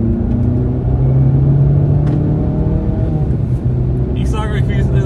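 A small Abarth car accelerates along a road, its engine rumbling loud and steady from inside the cabin, with a slight rise in pitch as it pulls.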